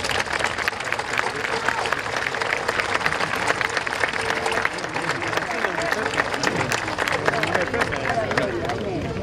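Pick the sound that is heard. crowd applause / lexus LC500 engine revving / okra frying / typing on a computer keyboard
crowd applause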